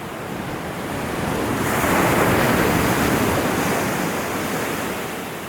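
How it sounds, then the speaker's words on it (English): Ocean waves rush through a narrow channel on a Pacific Northwest beach, a steady, loud, broad roar of churning surf that swells in the middle and eases slightly at the end. "the water is rushing through the channel and then back out"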